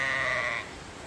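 A sheep on a farm in warm rain gives one short, fairly faint bleat that fades out quickly against a soft hiss in the background.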